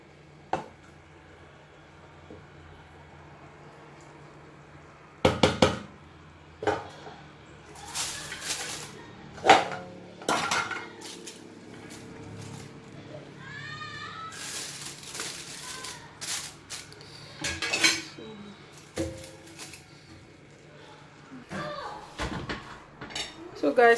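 Cooking pot holding Nigerian party jollof rice with melting butter being covered by its lid, marked by sharp metallic clanks and clatters of pot and lid against a steady kitchen background, with occasional talking.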